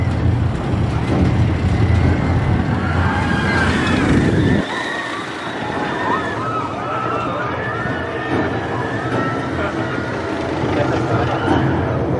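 The KONDAA roller coaster at Walibi Belgium roars past with a heavy rumbling rush that cuts off abruptly, then thinner rattling and distant screams follow, while people talk and shout excitedly nearby.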